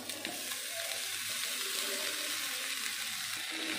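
Onions and leftover rice fry in a hot pan while being stirred, giving a steady close sizzle with faint scraping and watery crackle throughout, no voices.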